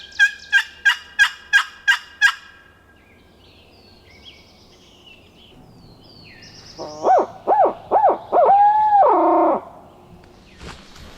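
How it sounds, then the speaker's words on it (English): A wild turkey gobbles twice in the woods, each time a loud rattling burst. An earlier run of seven evenly spaced hoots, like an owl, comes before the gobbles. "We walked in here a good ways on this bird, and he's gobbled twice total"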